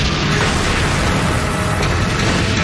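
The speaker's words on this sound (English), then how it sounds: "We engaged that first tank with a heat round" A HEAT anti-tank round strikes a tank, producing a loud, dense, continuous explosive roar with no clear pauses.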